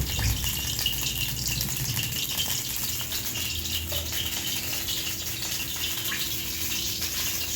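Oil pouring into a kadai for frying palak puris, a steady, close, continuous pouring rush with a faint sizzle beneath, heard alone with no talk.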